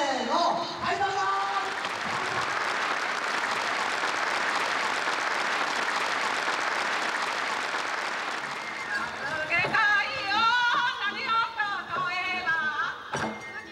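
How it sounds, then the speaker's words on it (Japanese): Sustained applause from an audience at a women's fire-prevention rally fills the hall for about nine seconds, loud and steady, then fades as voices and stage sounds take over. "出席者の盛んな拍手を浴びました。"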